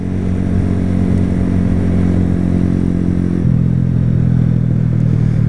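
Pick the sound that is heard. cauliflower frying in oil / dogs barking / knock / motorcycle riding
motorcycle riding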